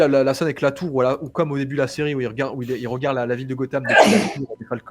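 One sharp, close sneeze bursts out in the middle of a continuous French conversation, loud and noisy against the steady voices around it.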